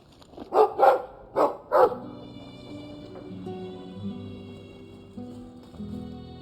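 Four loud, close dog barks in quick succession open a scene from the Dragon Age 2 video game, followed by sustained musical tones from the game's score.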